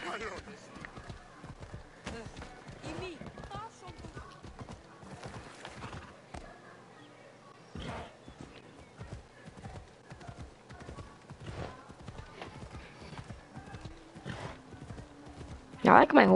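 Horse hooves clip-clop in a steady, fairly close rhythm in the video game Assassin's Creed Odyssey. A neigh comes in partway through, and a voice talks softly over it all.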